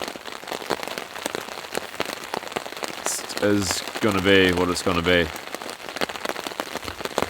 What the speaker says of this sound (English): I think the rain's just going to get heavier and heavier from here